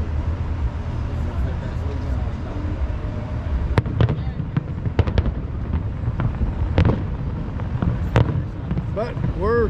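WEBN fireworks in 2023 pop and crackle in sharp bursts over a steady background rumble as a plane flies nearby, with people talking nearby throughout.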